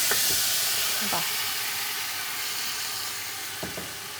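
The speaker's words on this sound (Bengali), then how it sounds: "এখানে আমি মাংস যেহেতু আগের আমার রান্না করা আছে, আমি মাংসটা এখানে ঢেলে দিব।" Half-cooked mutton tipped into a hot pot for pakki biryani gives a steady broadband sizzle and steam hiss, loud and close, with a few soft knocks and a brief voice.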